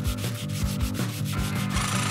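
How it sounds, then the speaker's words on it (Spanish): Steady scraping file strokes rubbed back and forth in a quick, even rhythm, close and continuous with no talk, a nail file worked against a surface. "Aunque voy a usar la lima."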